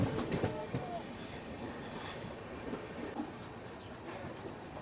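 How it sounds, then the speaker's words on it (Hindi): Poorvottar Sampark Kranti train rolling slowly through Kamakhya Junction without stopping, a steady rumble and rattle of carriages with several high wheel squeals, recorded from on board. "हम लोग धीमे धीमे ही सही लेकिन स्किप मार रहे हैं कामाख्या जंक्शन को"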